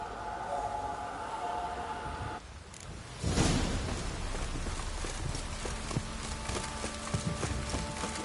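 Hooves of a horse ridden in the Witcher 3 video game, a steady clip-clop of footfalls rising after a whooshing swell and continuing under game ambience and music.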